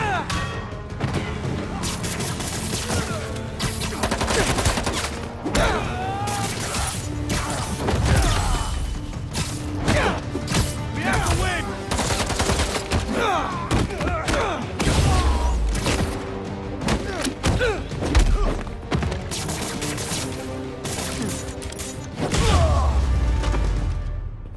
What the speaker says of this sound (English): Those fireworks are lit.